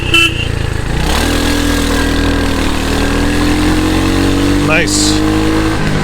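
Royal Enfield Hunter 350 motorcycle engine running steadily while riding in first gear, a continuous low engine drone with pitch shifting as revs change, nearby and loud beneath someone talking.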